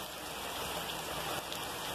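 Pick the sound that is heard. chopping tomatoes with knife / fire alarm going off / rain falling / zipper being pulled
rain falling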